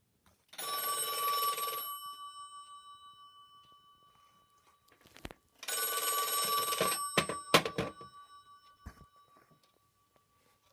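A Western Electric 2510 telephone on a PBX rings in two long electromechanical bell bursts, each about a second and a half, separated by a pause, loud and close, with a few clicks near the end.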